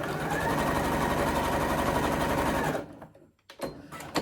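A sewing machine stitches a seam on a ruffle stocking cuff, running in a steady, fast, close mechanical whir for nearly three seconds before stopping, followed by a few faint clicks and handling noises.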